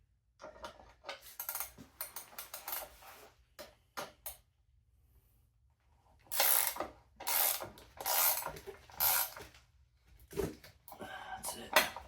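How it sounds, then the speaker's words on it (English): Gear wrench ratcheting on a new FRP 99cc four-stroke OHV mini bike engine, with bursts of rapid clicking between pauses, close and moderately loud. "We get that gear wrench for the job here."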